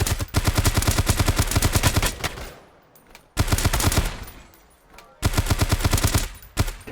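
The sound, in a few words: gunfire in video game Dysterra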